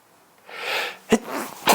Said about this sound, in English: Oh my God, I had to sneeze so bad.